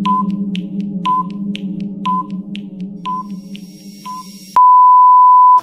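A countdown timer for a checkers puzzle ticks with short beeps once per second, each with soft clicks between, over a low hum. A long, steady final tone sounds after the fifth beep.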